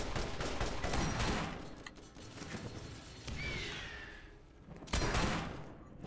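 Gunfire in the game Borderlands, bursts of rapid shots that come in waves with short pauses between them, plus a sharp blast near the end, all fairly faint against the game's background noise.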